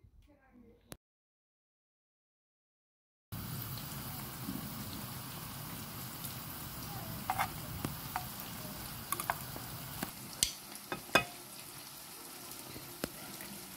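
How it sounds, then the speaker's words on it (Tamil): Cashews frying in ghee in a pan, a soft steady sizzle with scattered light pops and crackles after an initial quiet stretch, faint and close. "நெய்யில் முந்திரி வறுத்து எடுத்துக்குவோம்."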